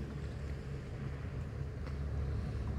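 A steady low engine rumble mixes with wind buffeting the microphone as a small fishing boat motors past, returning from sea, continuous and fairly loud, with no voices.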